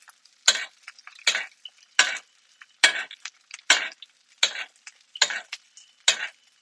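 Beef in a pan basted with spooned butter: about nine sharp, evenly spaced bursts of sizzling, each flaring and fading, heard up close with no speech.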